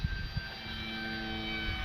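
Arrows RC Bigfoot PNP electric model airplane flying near a runway, giving a steady, continuous motor whine with a couple of brief bumps at the start, heard from a moderate distance.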